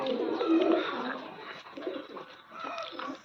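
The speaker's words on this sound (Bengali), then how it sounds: "এই হচ্ছে হলো আপনার নর কবুতরটা" A male pigeon of Oman bloodline coos in low, throaty rolling phrases, repeated several times close by, with faint background sounds around it.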